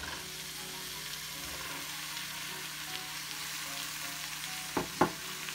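Potatoes join capsicum frying in a pan, giving a continuous soft sizzle, with two sharp knocks of a spoon against the pan near the end.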